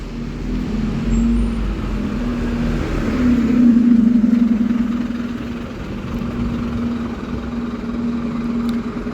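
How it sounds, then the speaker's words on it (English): A Scania Omni-decker double-decker bus pulls away in Essex, its steady engine drone building to a peak midway, then easing off as it departs, with road noise throughout and no talking. "Right, we've just got off the Scania omni-decker. Off it goes."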